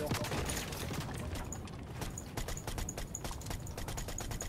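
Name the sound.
gunfire from Fortnite video game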